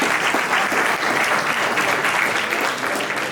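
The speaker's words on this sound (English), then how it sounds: "if we could get a round of applause for everyone who helped" An audience applauds at an evening event, a steady, dense wash of many hands clapping at close range that holds evenly throughout with no talk over it.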